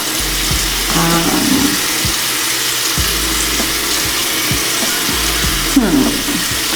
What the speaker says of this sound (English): I'm gonna rinse this off now.